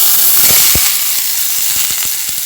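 Half a kilo of prawns dropped into a pan of frying onions for prawn masala, giving a loud, steady hiss of sizzling oil with a few small pops and crackles, close by.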